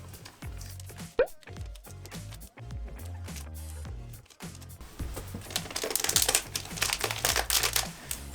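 Tape crackles and scissors snip as a small phone stand is made at home, with crinkling, tearing and clicking sounds close by in irregular bursts.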